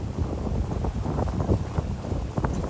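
Strong wind roars steadily across an open farm plot during a family outing to the fields, buffeting the microphone with a dense low rumble and occasional stronger gusts, with no talk.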